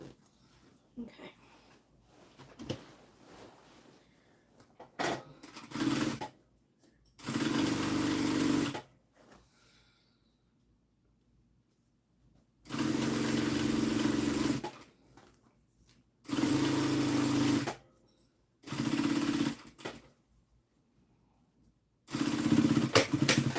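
A sewing machine stitching a zipper onto fabric runs in several loud, sustained bursts of whirring, each lasting a few seconds and separated by pauses, with faint rustling and handling noises in the gaps.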